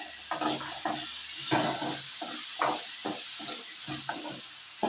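Peeled garlic cloves go into a sizzling pan of oil and tomato for fish kulambu, bringing soft, steady frying hiss broken by repeated scraping stirs of a spoon.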